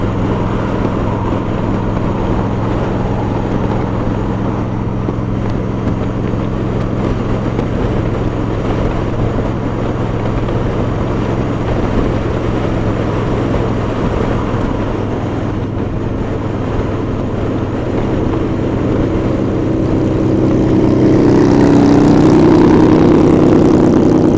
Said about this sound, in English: That exhaust would drive me insane after a while.